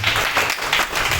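An ashram audience gives a guest, Praful Gala, a round of applause: dense, steady clapping fills the short stretch at an even level, with a low murmur underneath.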